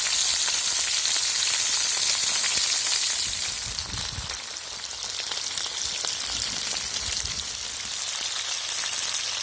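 Potatoes fry with pork belly in a pan, crackling and sizzling loudly and continuously, with the hiss easing briefly midway and low stirring bumps underneath.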